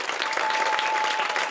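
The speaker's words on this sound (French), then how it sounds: "Applaudissez tous ensemble." A crowd applauds with brisk, dense clapping, steady and fairly loud from start to finish.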